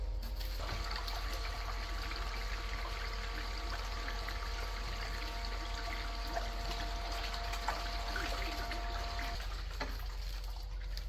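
Water runs steadily through a gold prospecting highbanker during a clean out beside the Wisconsin River, a constant pumping and gushing wash that holds level throughout, with a faint steady tone over it and a brief shift near the end.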